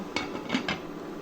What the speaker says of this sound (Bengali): আমি ঢাকনা দিয়ে ঢেকে আরও দশ মিনিট জাল করে নেব